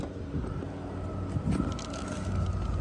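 A 2006 Lexus LS430 fitted with a high-output 240 amp alternator revs briefly, a steady low engine hum swelling around the middle of the short clip, close to the microphone with some wind noise.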